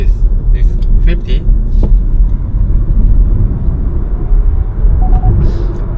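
A 2025 Kia EV3 front-wheel-drive electric car accelerating at full throttle, heard from inside as a loud, steady road and tyre rumble with faint motor whine, while someone talks over it.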